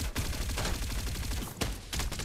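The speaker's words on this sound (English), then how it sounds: "Reloading. Firing will commence shortly." Rapid, loud, unbroken automatic gunfire from the video game Farlight 84, with a couple of sharper blasts standing out near the end.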